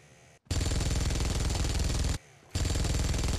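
Minigun firing in the PUBG Mobile video game: two long, loud, continuous bursts of rapid automatic fire, separated by a short gap of quieter game ambience.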